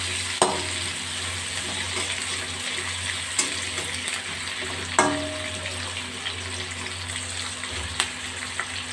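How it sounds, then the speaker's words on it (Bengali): Papaya and capsicum stir-fried in hot oil, a steady sizzle with occasional sharp clicks of a spatula or spoon against the pan. "এবার 1 মিনিট নাড়াচাড়া করে পেঁপে ক্যাপসিকাম আমি তুলে নেব"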